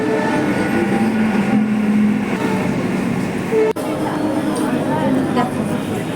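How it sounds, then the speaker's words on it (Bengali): A train pulling into a station on a hot afternoon, a loud, steady rumble of rolling wagons with faint rail clatter and a sharp clank midway, heard close by. "এই আমার ট্রেনটা ঢুকছে"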